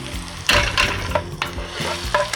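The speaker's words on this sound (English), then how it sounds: "I'm gonna add my onions" Onions hitting hot palm oil with garlic and ginger, sizzling loudly, with several spoon scrapes and stirring knocks against the pan, close and busy.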